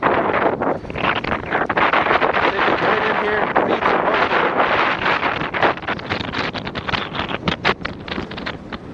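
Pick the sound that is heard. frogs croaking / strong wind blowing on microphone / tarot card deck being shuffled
strong wind blowing on microphone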